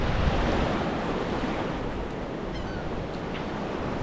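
Ocean waves wash onto a beach in a steady, loud rushing wash of surf, with some wind noise on the microphone and no talking.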